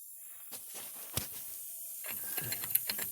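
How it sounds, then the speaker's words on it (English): A ratchet fitted with a pipe extension works a rusty rear brake bolt on a 2014 Kia Sorento, giving a few close, sharp ratcheting clicks and scraping metallic strokes. "I'm just going to slide this pipe on the end of my ratchet."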